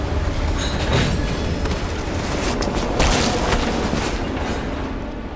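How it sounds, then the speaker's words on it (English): Train slowing down in Call of Duty Black Ops Cold War, a continuous rumbling rattle of rail cars with brief bursts of hiss and clatter, loud and close, no speech. "Train slowing down."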